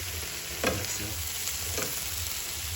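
Chinese cabbage and shrimp are stirred in a frying pan with butter and garlic, giving a gentle, steady sizzle with a few soft scraping strokes of the spatula.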